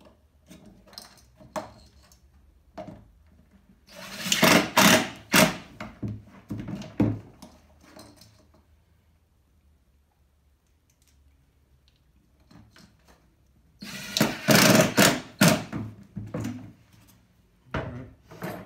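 Lath screws, 3/4 inch, being driven into a bucket for a raccoon trap set, giving two loud bursts of gritty grinding and scraping with a quiet gap between them, plus a few brief knocks and clicks.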